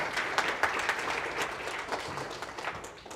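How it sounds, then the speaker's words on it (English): An audience at a talk on data sharing for homelessness support gives a round of applause, an even wash of clapping that carries on throughout and eases slightly toward the end. "please, everybody give a round of applause"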